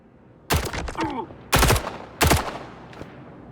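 A new rifle fires in the video game STALKER 2: three loud, sharp bursts of rapid gunfire a second or so apart, with a faint voice briefly heard between the first shots.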